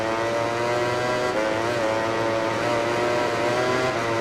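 Ducati MotoGP bike in MotoGP 20 on Xbox One X screaming past a Yamaha on a race track, a loud continuous high-revving engine whine with steady harmonics that shift slightly in pitch as it passes, no talk.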